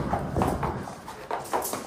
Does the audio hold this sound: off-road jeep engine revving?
no